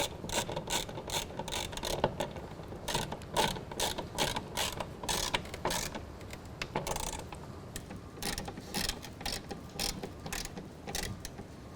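Ratcheting wrench tightening bolts on the rail brackets of a Revolver X2 tonneau cover on a pickup bed, a steady run of quick metallic clicks in bursts with short pauses, close and clear with no talking.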